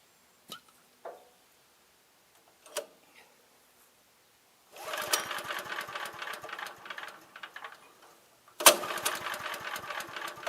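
An abandoned wood chipper's engine is cranked by hand in a few separate short pulls, then turns over with sustained rough chugging bursts that stop and start again, with no talking.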